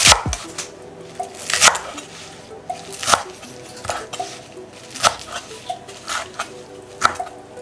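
Knife chopping vegetables into roughly two-inch pieces on a cutting board while making Thai boat noodles, a series of sharp, close cuts landing about once a second with quieter knocks and clatter between, no talking.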